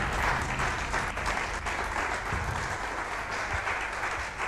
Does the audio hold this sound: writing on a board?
no